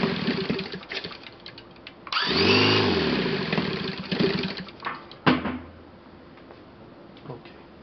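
A Saito FA 270T model aircraft engine idles roughly and unevenly. It surges and sputters up close with a rising and falling pitch, then falters and tapers off.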